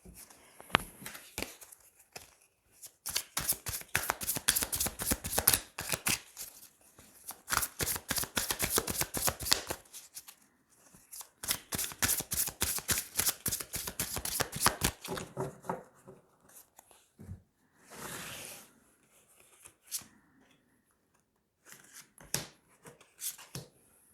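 A deck of tarot cards being riffled and shuffled for a reading, in fast bursts of crisp flapping and clicking that come in several long runs separated by short pauses, close up and loud, with a few softer card sounds at the end.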